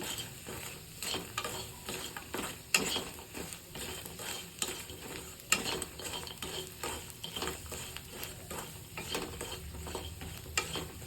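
Crispy soya chunk chips being stirred in a pan produce a steady, quiet sizzle with repeated scraping and tapping of a spatula against the pan at an irregular rhythm.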